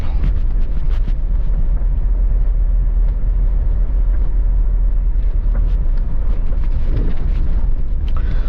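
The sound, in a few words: car driving at night on a countryside road in Jamaica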